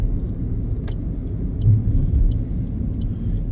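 A car rolls past at a roundabout, a low, steady rumble of engine and tyres that swells briefly midway, heard from inside another vehicle.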